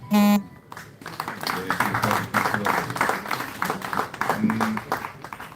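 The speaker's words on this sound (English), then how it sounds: "A big applause." Applause for the president at a national address in Uganda, following a short tone: a crowd claps steadily and fairly close, with occasional voices mixed in, and a second brief tone near the end.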